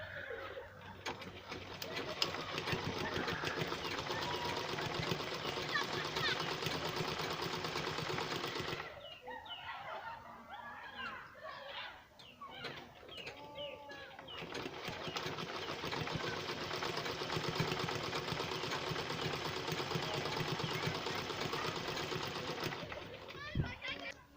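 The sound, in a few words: sewing machine sewing the band of nightwear boxers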